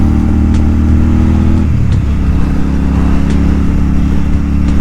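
Royal Enfield Super Meteor 650 cruiser motorcycle riding on a highway near Auckland at around 100 km/h, a loud steady engine hum with a brief pitch shift, heavy wind rush throughout, no talking.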